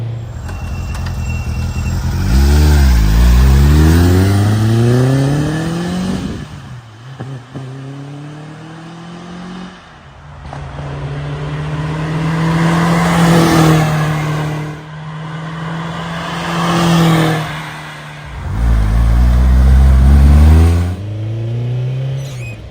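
A 1984 Lancia Rally 037 Stradale Evo engine, well warmed up, revs hard several times, climbing and dropping in pitch, loud and close with a rough throaty tone.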